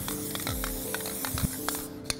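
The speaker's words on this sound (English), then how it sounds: "spray this whole area with some glue spray" Glue spray hisses from a can onto a glass bowl in a floral workshop, broadband bursts repeating through the short clip, close and fairly steady with soft handling noises between.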